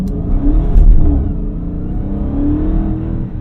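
A 2023 Dodge Charger SRT Hellcat Widebody roars at full throttle on a launch-control start, its engine revving loud and close in one sustained surge that peaks early, then holds a heavy, steady drone.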